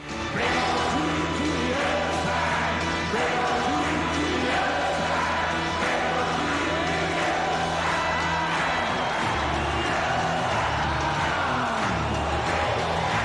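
A rock concert crowd roars in a Doors concert scene, a loud sustained swell of cheering and whoops over pounding low music with sustained tones.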